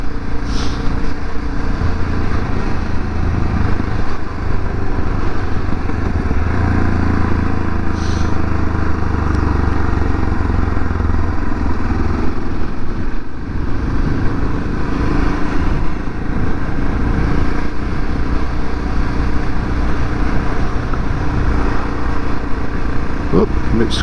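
A Yamaha MT03 660 motorcycle rolls over gravel, its engine droning loud and close throughout, with a continuous rumble and crunch from the loose surface.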